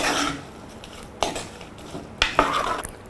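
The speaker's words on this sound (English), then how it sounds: "you have to stir to mix everything together" Green bean curry is stirred in a pot, producing scraping spoon strokes and a few sharp clanks against the metal, close by and with no talking.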